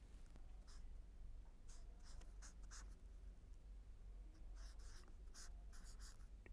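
Quiet chalk or marker strokes on a board, scratching in short bursts and clusters during a maths lesson, faint against a low room hum, with no speech.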